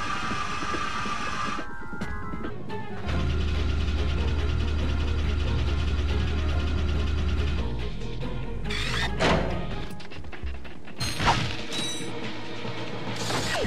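Rail grinding in Ratchet and Clank on PS2 produces a rapid metallic ratcheting clatter and steady mechanical whir, broken up by bursts of other game sound effects.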